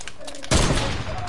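Gunfire in a video game erupts suddenly after a brief lull, becoming a loud, dense burst of rapid shots that continues to the end.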